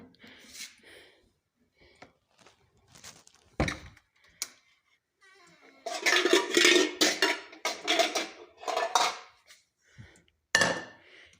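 A cooking pot and dishes clatter in a home kitchen, with scattered metallic knocks and clinks and then a longer run of busy rattling and scraping of utensils, fairly close, with brief vocal sounds in between.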